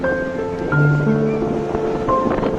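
Sea waves and wind buffet a small boat on the crossing to Shialbet, an island village in the sea, with continuous splashing surf, wind noise on the microphone and a low engine drone.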